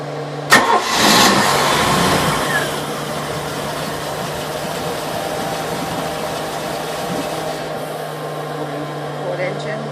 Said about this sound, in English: we're starting the starboard engine first.